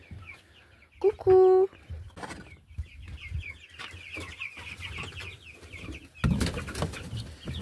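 Young chicks that are growing into small chickens cluck and peep softly throughout, close by, while a person speaks briefly and a short loud call cuts in near the start, followed by a rustling burst.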